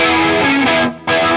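A distorted electric guitar chord through a Fender Hammertone Flanger pedal and Fender Deluxe Reverb amp rings with a swirling, sweeping modulation, breaks off briefly, then sounds again at full volume.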